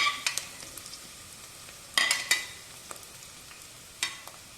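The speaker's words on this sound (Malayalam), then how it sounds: "ഇതിലേക്ക് ഒരു പാവക്ക അരിഞ്ഞത് ചേർത്ത് കൊടുക്കാം" Long-sliced bitter gourd frying in oil for a bitter gourd pickle, soft sizzle broken by a few sharp spatula scrapes and clatters, close but quiet.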